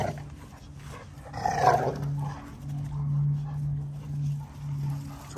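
Dogs growl in low, sustained rumbles during rough play, one with its mouth on the other's neck. The growling swells and fades repeatedly, close and fairly loud.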